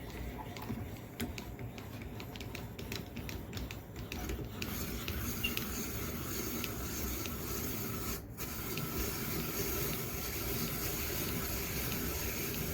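A hand-cranked apple peeler turns an apple with a steady, close rasping and scraping that runs without a break, along with a faint mechanical ticking early on.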